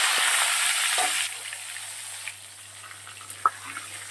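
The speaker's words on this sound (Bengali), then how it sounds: "একটু হলুদ দিয়ে দিলাম, আবার আলুটা একটু ভেজে দিলাম" Potatoes with turmeric fry in a pan, giving a steady hiss that drops to a quieter sizzle partway through, with a few small ticks and clicks.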